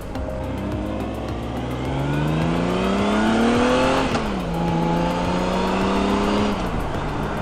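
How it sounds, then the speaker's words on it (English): A custom trike engine pulls through a first test ride, its droning tone rising steadily then dropping at a shift and climbing again, loud and close with wind rush around it. "test ride number one is a success here. This thing really cruises."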